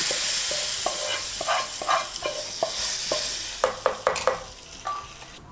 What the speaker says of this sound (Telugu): ఇప్పుడు ఈ పోపు మిశ్రమాన్ని ఇలా పులుసులో వేసుకోవాలి